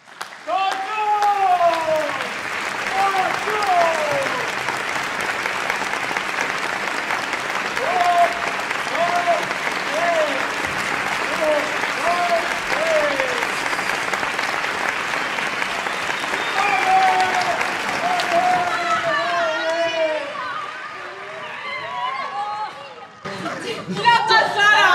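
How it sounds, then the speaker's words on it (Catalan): An audience at a live stage performance applauds in a long, dense burst of clapping, with voices calling and chattering over it before it fades near the end. "I el públic va aplaudir."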